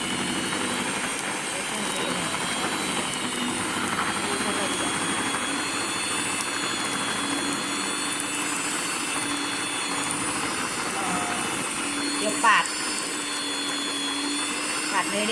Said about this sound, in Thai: พี่มีเครื่องผสมอาหารเล็กๆนะคะ พี่ก็จะ เครื่องตีเนยนะคะตีเนยให้ละเอียดนะคะ